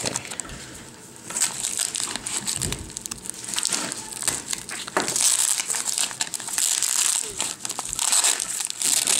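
Bubble wrap crinkles and crackles near the mic while an unboxing goes on, a dense, continuous rustle with sharper crunches, briefly mixed with faint talk.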